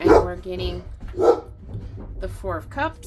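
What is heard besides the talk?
dog barking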